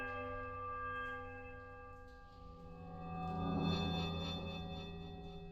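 Bells struck in a bell puzzle in Pillars of Eternity: a long, sustained metallic ringing with layered tones, swelling as another bell sounds partway through, then slowly decaying, heard alone.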